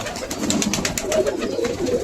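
Pigeons in their wooden loft boxes coo softly and repeatedly, close by, with a low rustling murmur in the background.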